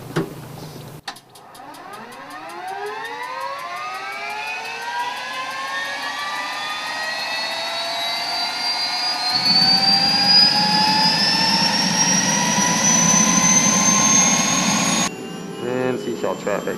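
A JetRanger helicopter's turbine spools up at departure from a runway, a rising whine climbing steadily in pitch over about fifteen seconds, loud and continuous, with rotor and engine roar thickening before it cuts off near the end.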